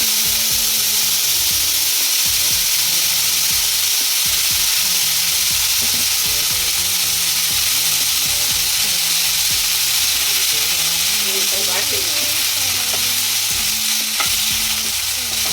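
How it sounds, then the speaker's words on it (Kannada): Loud, continuous sizzling of salt-soaked bitter gourd slices frying in a spoonful of hot oil, with occasional stirring and scraping sounds close by. "ಇದು ಎರಡು ಕಡೆ ಫ್ರೈ ಆಗಬೇಕು."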